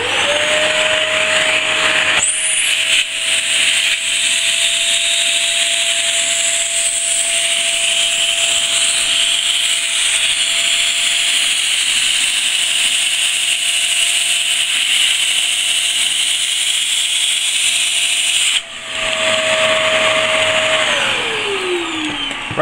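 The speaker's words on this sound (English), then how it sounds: "Now I'm just going to get the vacuum cleaner." Household vacuum cleaner drawing the air out of a storage vacuum bag holding diecast toys, a steady close whine running unbroken for about twenty seconds, with its pitch dropping as the motor winds down at the end.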